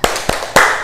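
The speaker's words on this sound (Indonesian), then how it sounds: "Tepuk semangat" Three sharp, loud hand claps from a classroom of students doing a spirit clap, evenly spaced and close, the last one ringing briefly.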